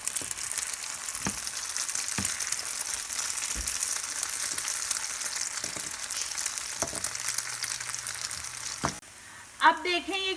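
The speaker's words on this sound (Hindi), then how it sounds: "अब हम जो फ्राई पैन है उसके अंदर हम थोड़ा सा ऑयल डालेंगे और अंडे को हम इसके अंदर डाल देंगे।" An egg frying in a little oil in a frying pan, a steady close sizzle with occasional pops and stirring scrapes, ending with a brief voice.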